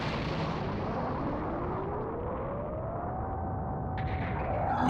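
In Dragon Ball Z: Kakarot, the moon is blasted apart in a sustained, roaring explosion with a rising whine over it, dense and loud throughout.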